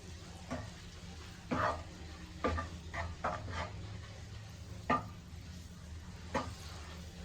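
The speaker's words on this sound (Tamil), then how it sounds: "இப்போது இந்த முட்டையை மசாலாஸோடு நல்லா பொரிச்சு எடுத்துக்கோங்க." Egg sizzling with masala in a frying pan, a steady sizzle under repeated bursts of stirring and scraping against the pan.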